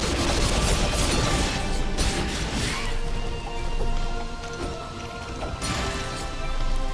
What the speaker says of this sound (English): It's raining even harder now.